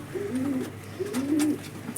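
Giribaz and mandas pigeons coo in two soft, rolling phrases, each rising and falling, close by with a faint hiss behind them.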